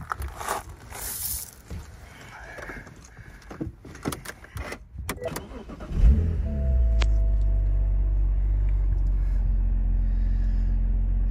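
A 2010 BMW Z4 sDrive 2.5-litre roadster's engine cranks and catches after some cabin handling clicks and rustles, flaring briefly then settling into a steady, smooth low idle heard up close.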